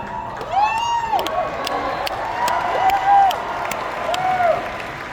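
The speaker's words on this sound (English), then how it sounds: "What an amazing crowd all of you are" A large crowd at an AmFest 2025 rally in Phoenix cheers, whoops and applauds in loud waves, with shouts rising above the sound. A voice speaks over the noise.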